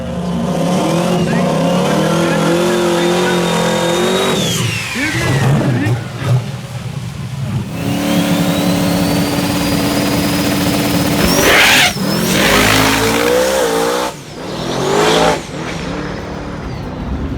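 A small-tire no-prep drag race car on its first pass at a Carolina track, roaring loudly up through the gears in long rising pulls with shift breaks, heavy raw engine noise throughout and voices mixed in.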